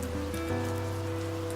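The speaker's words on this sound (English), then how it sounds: "as rain drummed against the window" Steady rain drums against a window, a soft continuous patter with a low hum underneath, no voices.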